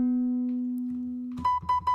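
A sampled piano note, pitched well below its original in Ableton's Simpler, holds as a steady, dull low tone with an unnaturally smooth decay. It is followed by a few brighter, higher piano notes played in quick succession, with no talking.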